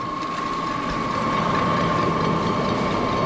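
An electric motor works under load as a grinder mills soybean cake into a feed mix for piglets, giving a steady mechanical whine with a sustained tonal hum and a rattling grind throughout, and no talk.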